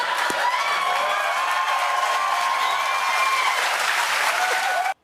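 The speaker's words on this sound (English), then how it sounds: "Is the stage manager holding up an applause sign? Because why are people clapping for sunglasses?" A studio audience breaks into loud, dense applause, many hands clapping at once in a continuous roar that holds steady and then cuts off abruptly.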